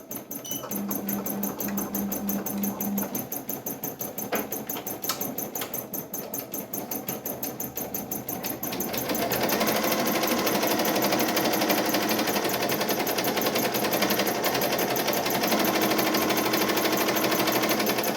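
Multi-needle embroidery machines run with rapid, steady mechanical clatter, growing louder and denser midway as a second machine joins in.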